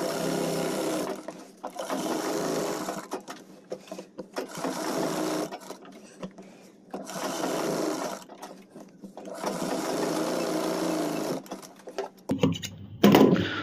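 A sewing machine stitches the neck of a suit in long steady runs of fast close whirring, broken by short pauses, with some handling clatter at the end.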